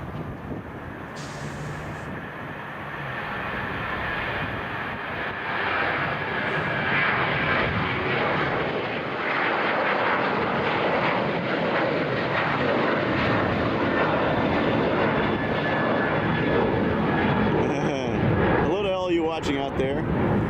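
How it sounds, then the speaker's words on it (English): Airplanes at Chicago O'Hare International Airport, a loud sustained engine roar building and holding as an aircraft passes, with a person talking intermittently over it. "I'll try not to talk the whole time so we can actually hear the airplanes"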